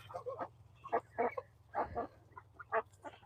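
Chickens on a farm during evening chores, with geese and ducks feeding nearby, cluck in short, irregular bursts close by over a quiet low hum.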